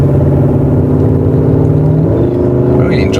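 Porsche Cayenne Turbo Coupé engine and exhaust heard from inside the cabin, a steady loud drone with low harmonic rumble that shifts pitch as the gear changes near the end.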